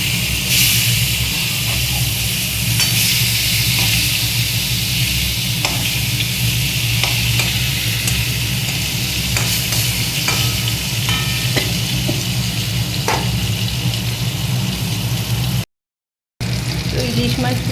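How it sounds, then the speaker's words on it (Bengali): Hilsa fish pieces frying in oil give a loud, continuous sizzle with scattered pops and spatula scrapes, held steady and near for a long stretch before a brief dropout near the end. "ইলিশ মাছগুলোকে দিয়ে দিলাম, হালকা করে ভেজে নেব।"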